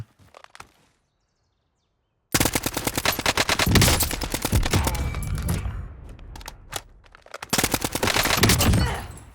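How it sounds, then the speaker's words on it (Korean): Rapid automatic gunfire from an AN-94 assault rifle in Call of Duty: Warzone, long sustained bursts, loud and close, after a brief quiet lead-in. "근데 총소리는 마음에 든다 괜찮네 총소리는"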